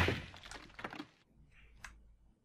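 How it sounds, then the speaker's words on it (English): Glass shoes shatter in the video game The Witch's House, a sharp breaking crash that rings out and fades, followed by a couple of small clinks in near silence. "The glass shoes shattered into pieces."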